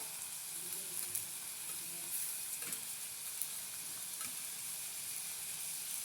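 Green chillies, tomato and ginger-garlic paste fry in a pan with a steady, close sizzle and hiss that runs the whole time, with a few faint stirring clicks and no voices.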